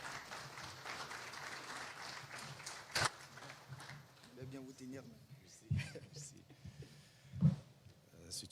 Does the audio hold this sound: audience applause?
yes